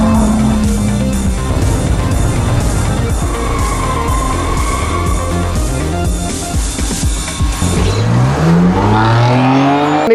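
A BMW M3 sedan or M4 coupe engine revs and accelerates hard, its rising engine note loud and close, with steady motor roar and no talking.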